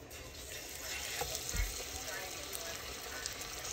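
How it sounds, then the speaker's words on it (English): Flour-coated beef neck chops frying in hot oil in an old pot, a soft steady sizzle and bubbling close by with a small thump of meat settling, fairly quiet overall. "All right, let's fry this down."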